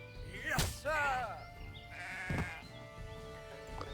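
Sheep bleat in the Renowned Explorers video game: a wavering bleat stands out clearly, followed by a shorter second call, with game sounds and someone talking around them.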